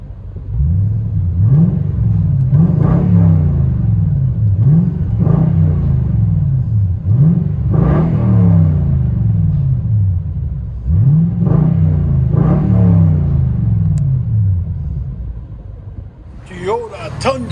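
2014 Toyota Tundra Platinum, lifted, with a 5.7L V8 and true dual exhaust with Flowmaster Outlaw mufflers, revving repeatedly in short bursts with a deep, loud, close rumble rising and falling between blips.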